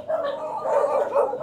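A dog gives a short, close, whiny bark or yelp lasting about a second, clear and fairly loud with nothing else around it.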